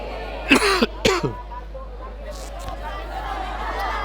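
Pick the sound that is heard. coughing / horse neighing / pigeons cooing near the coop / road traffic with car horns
coughing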